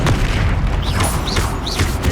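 Explosive spell blasts in the Hogwarts Legacy fantasy video game, a dense, loud rumbling boom with sustained roar and a few rising whooshing streaks over it, no pauses.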